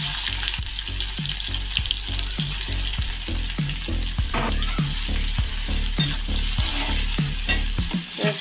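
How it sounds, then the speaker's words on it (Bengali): Oil sizzles steadily in a wok while something is fried lightly, with regular spatula scrapes and knocks roughly twice a second throughout, close and fairly loud, no voices. "হালকা ভাবে একটু ভেজে নেব।"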